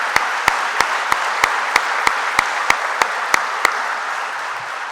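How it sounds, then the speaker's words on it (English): Steady, dense applause fills a hall of fame induction ceremony, with a sharp rhythmic clap punching through the crowd noise at even intervals before it tapers slightly. "I think that deserves a round of applause."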